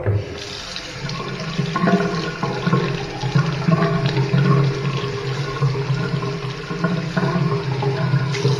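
Water runs steadily from household pipes and a tap during a water heater installation, a loud continuous rushing flow with a faint undertone of plumbing resonance throughout.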